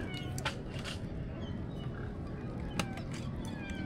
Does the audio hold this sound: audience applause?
no